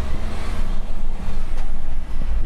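A Ford Trucks F-LINE truck accelerates hard after pulling away, its engine a loud, steady low rumble that holds throughout, with no voices heard.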